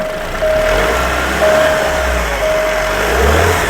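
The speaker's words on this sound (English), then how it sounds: "give it a little rev" An Alfa Romeo Giulia's turbocharged, direct-injected engine revs up three times in quick succession, each short rise in pitch falling back to idle, close and fairly loud.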